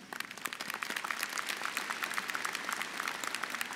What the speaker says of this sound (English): If you want to applaud, please do.